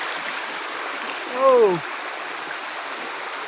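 A small river stream in Shillong flows over stones with a steady broadband rush, continuous throughout; a man briefly exclaims partway through over the water.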